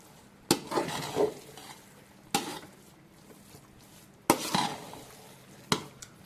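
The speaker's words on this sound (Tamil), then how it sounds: "இதை நம்ம நல்லா கிளறி விட்டுக்கலாம்." A spoon works ghee through chicken biryani rice in a cooking pot, giving four sharp clinks against the metal spaced a second or two apart, with soft scraping and shuffling of grains in between.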